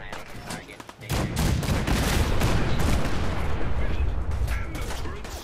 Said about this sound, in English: A few warning shots usually suffice to scare them.